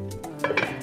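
A pot of goat neck braised with peppers and berbere spice slides into an oven with a couple of close metallic clinks and a soft scrape.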